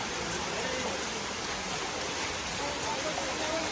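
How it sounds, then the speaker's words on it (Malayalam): Heavy rain pours down at Matheran, a hill station, as a steady, dense roar that fills the whole short stretch without any break. "അയ്യോ മഴ തുടങ്ങി, നമുക്ക് ഓട്ടിടണം എന്തായാലും. ഗോഡ്, ഭയങ്കര മഴ."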